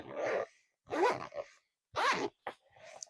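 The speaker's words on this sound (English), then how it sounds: "bring your zipper up there, and then this will zipper around it" A zipper on a travelers notebook rasps shut in several short pulls separated by brief pauses, close and fairly quiet, with no voices.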